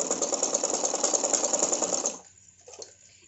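A sewing machine runs a long continuous stitch along a neck design, a steady close rapid whirring for about two seconds before stopping abruptly, leaving faint handling noises.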